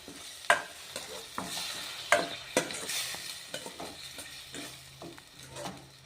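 A pan of curd gravy for an okra dish, frying and being stirred: a steady low sizzle with irregular scraping knocks of a spoon against the pan, close and moderately quiet.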